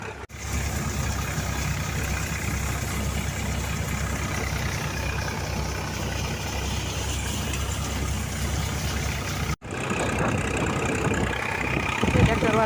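A tractor engine idles steadily on a farm during a fenugreek harvest, a continuous low rumble close by with a brief cut near the end.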